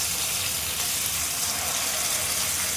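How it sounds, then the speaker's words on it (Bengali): Pieces of rohu fish fry in hot mustard oil, a steady, soft sizzle and crackle close by, with no talking. "রুই মাছটা আমার ভাজা হয়ে গেছে, লাল লাল করে ভেজে নিয়েছি আমি"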